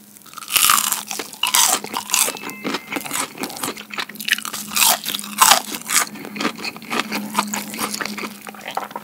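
Crunchy bites and chewing of curry and cheese flavored dinosaur-shaped fried chicken from Mom's Touch, close to the mouth: a steady run of crisp crackling crunches in irregular bursts, with no talk.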